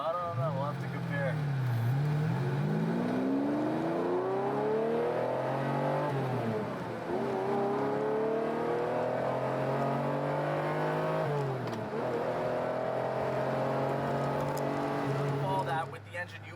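A Ferrari Testarossa flat-12 engine, driven with a gated dog-leg 5-speed manual, revs loudly through rising and falling sweeps with gear changes, close by and continuous, while someone talks over it.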